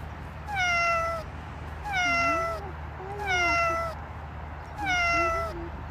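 A cat meows four times in an even rhythm, each call clear and close, spaced about a second and a half apart over a faint steady background hum.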